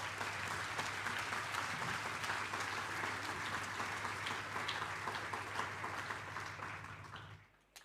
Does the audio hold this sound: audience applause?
yes